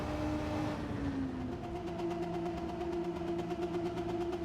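A Renault RS01 mid-engine race car in Gran Turismo 7 hums steadily at constant revs, its pitch dipping briefly early on before settling into a sustained engine drone.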